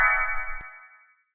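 A short phone notification chime from Facebook sounds alone: one bright tonal ping with a brief low thump, ringing out and fading over about a second.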